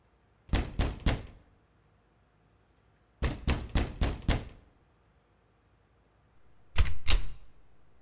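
Someone raps on a door in three bursts: a quick set of three knocks, then five, then a final louder, firmer cluster, with quiet pauses between.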